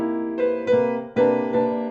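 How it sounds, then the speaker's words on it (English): Piano chords struck in close succession, a dense, clashing minor-ninth voicing ringing out with sustained harmonics, four attacks over two seconds, played alone with no voices. "You've got this minor ninth, which is, essentially a very harsh chord."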